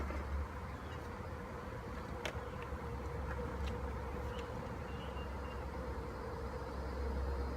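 Honey bees in an agitated beehive troubled by small hive beetles give off a dense, steady buzzing drone that fills the whole stretch at an even level, with a few faint clicks over it.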